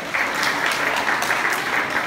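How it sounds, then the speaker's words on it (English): Sustained applause from a crowd honouring volunteers at an outdoor county picnic for children with special needs; steady, dense clapping fills the whole clip at a moderate level. "how about a nice round of applause for all the volunteers helping out today"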